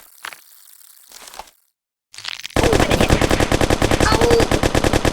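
Loud, rapid machine gun fire rattles in the Kick The Buddy video game, a dense continuous burst that follows a few softer crinkling sounds and a brief silence.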